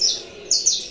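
A caged canary gives a few bright, high chirps up close, the notes coming in quick succession with nothing else heard.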